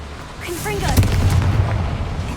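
In the video game Hogwarts Legacy, a Confringo blast spell bursts with a sudden crack and a rumbling boom that lingers, close and fairly loud, as a voice speaks just before it.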